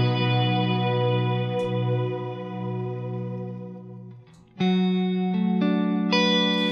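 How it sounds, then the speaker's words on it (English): An electric guitar plays through a swell-type reverb on a Strymon BigSky or Neunaber Illumine pedal. A long, sustained chord rings and blooms, then fades. Fresh notes swell in and layer over the decaying wash. "so that's a swell type of reverb"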